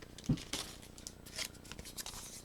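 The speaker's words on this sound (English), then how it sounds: "I'm hoping that I can cut these with scissors" Scissors snip through self-adhesive paper icicle decorations, a handful of quiet, close crisp cuts and rustles in a short burst.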